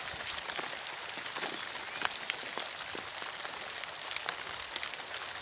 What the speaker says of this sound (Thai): ตอนนี้ฝนตกครับ